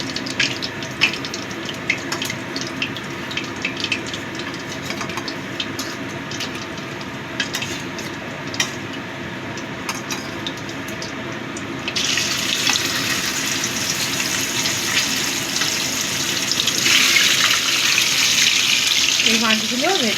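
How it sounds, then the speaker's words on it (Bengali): A second batch of katla fish pieces fry in hot mustard oil, starting as a moderate crackle with scattered pops and then swelling into a louder, hissing sizzle, close by and with no talking. "এই মাছগুলো ভেজে নেব"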